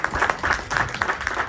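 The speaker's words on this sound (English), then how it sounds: "I ask you for a big applause for Emiliano and Maria" A restaurant audience claps for two people who decorated a paella, a short burst of dense, fairly close applause with a few brighter individual claps.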